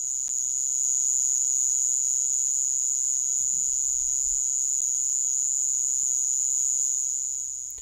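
A continuous, steady high-pitched trill from a Gryllotalpa mole cricket's wings, unbroken and fairly close, with faint low rustling beneath.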